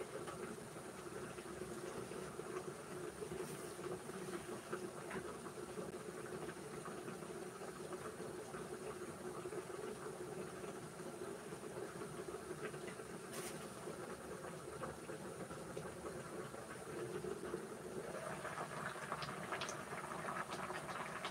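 A quiet, continuous bubbling hiss of pumpkin dessert boiling steadily in an uncovered pot, unchanging throughout with faint background hum and no talking.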